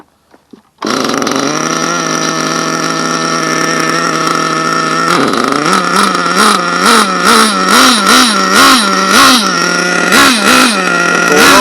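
An HPI nitro 4.1 RC engine starts with a few clicks, then idles at a loud, steady high buzz before a run of quick throttle blips, each rising and falling in pitch at close range.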